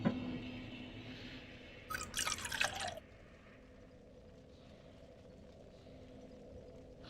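Water pours into a cup in a short, close burst of about a second of splashing trickle, after which the room falls quiet.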